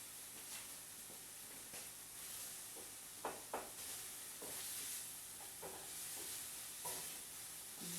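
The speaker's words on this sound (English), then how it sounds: "Put the veggies back in. Stir it all up and it should be really good." Steak and mixed vegetables sizzle and crackle steadily in a hot pan, with a few louder scraping stirs from a utensil cutting through the continuous hiss.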